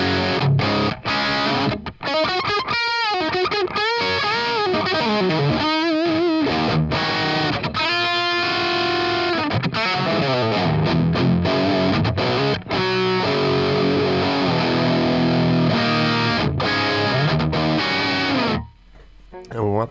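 A distorted electric guitar plays through a Line 6 Helix using the Mars Silver cabinet with a 421 microphone, crunchy chords and melodic lines ringing continuously, loud and upfront.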